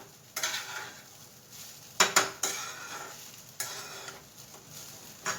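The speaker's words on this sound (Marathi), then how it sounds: "तर व्यवस्थितपणे 5 ते 10 मिनिटं आपण याला परतून घेणार आहोत." Garlic, green chili, curry leaves, grated ginger, cumin, mustard seeds and asafoetida being stirred in hot oil for fry bhat: soft sizzling with several scraping clatters of a spoon against the pan, close and without talk.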